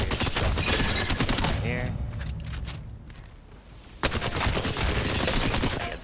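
Apex Legends SMG fired from the hip in rapid full-auto bursts, loud and close, a break with quieter shots and movement in the middle, then another sustained burst, with a brief spoken word.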